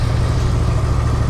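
A stopped motorbike's engine idles close by, a loud, steady low rumble with a fast even pulse, brief and without speech.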